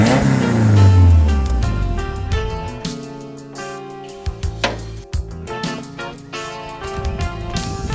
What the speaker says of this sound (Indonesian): jadi spesialnya dari mobil ini ada di mesinnya, yaitu turbo